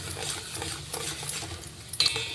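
Tempering spices frying in oil in a pan, a steady low sizzle with scraping stirring and a few sharp metal clinks near the end.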